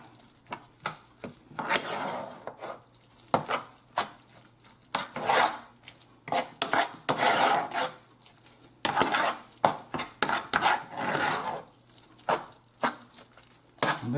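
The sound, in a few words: stirring cornbread dressing with egg in a pot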